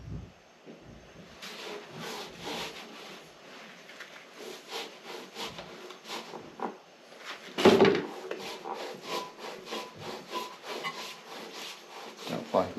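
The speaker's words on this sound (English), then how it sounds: "that flywheel's turning nicely." A 1928 engine's flywheel is turned by hand, giving a run of rhythmic scraping, rubbing strokes with wooden creaks and one louder knock midway; close, moderately loud, with no speech.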